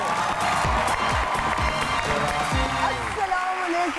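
Studio audience applause greets comedian Iftikhar Thakur, a dense, steady wash of clapping that holds for several seconds beneath music and an overlapping voice.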